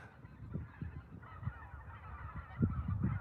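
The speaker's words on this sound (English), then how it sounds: "These geese they're returning north now." A flock of geese honks while coming down to land in a rice field, overlapping nasal calls in an irregular chorus, moderately close, with no speech.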